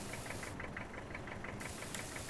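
Tractor engine in a farming game runs steadily with a rhythmic knocking throb, a constant mechanical hum heard alone at moderate volume.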